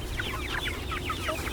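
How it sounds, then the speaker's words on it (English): Meat chickens out on pasture clucking steadily, many birds chattering at once in a dense, continuous flock murmur heard close by, with no one speaking over it. "Oh, there's a lot of birds."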